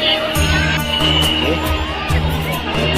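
A large crowd gathers before the Ganga Aarti at Haridwar, a dense babble of many voices with scattered shouts and cheers. A nearby low hum runs underneath.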